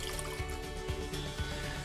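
Milk poured into a measuring cup while making an everyday focaccia-style bread, a soft steady liquid trickle and splash running continuously for a couple of seconds, close and fairly quiet.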